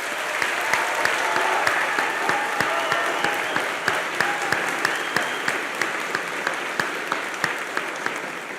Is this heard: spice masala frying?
no